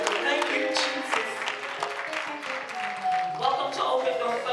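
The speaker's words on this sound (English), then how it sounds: "let's celebrate him with the clapping of our hands and the raising of our voices in his presence" A worship congregation claps its hands steadily at a church Sunday service, the clapping mixed with singing voices and music.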